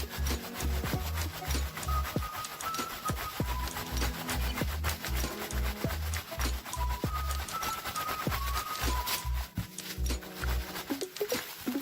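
Wet wool is rubbed and rolled against a rubber mat with holes during felting, producing a continuous rhythmic scrubbing and squelching friction, loud and close, with no talking.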